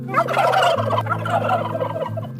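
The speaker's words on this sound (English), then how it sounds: "Even the nearby turkeys seem to applaud." A flock of turkeys gobbles loudly nearby at a vineyard in Parksville, Vancouver Island, overlapping rapid warbling calls over a low steady hum.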